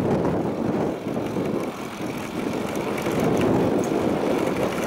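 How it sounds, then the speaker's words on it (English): Wind buffets the microphone of a cyclist riding a Blackpool street into a headwind, a heavy rumbling roar that swells and dips and stays loud and close the whole time. "Hopefully you'll still be able to hear me over the wind, because it's right in my face"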